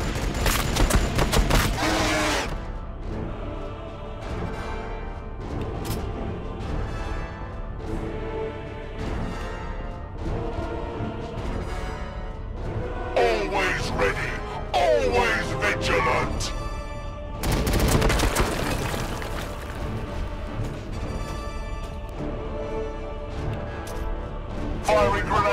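Sustained battlefield gunfire and heavy weapon bursts from the Warhammer 40,000: Battlesector video game, with dense volleys and booms running continuously and a louder flare of shots near the start and again midway, with game voices speaking over the din.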